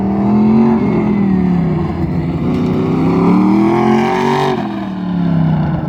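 Classic Muscle drag race car on its first lap of the day at an NMCA event, a loud, close engine roar that rises and falls in pitch as it revs and accelerates, with no voices over it.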